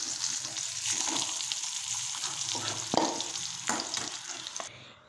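Pointed gourd (potol) pieces fry in oil in a wok, giving a steady close sizzle with occasional stirring scrapes and clatters.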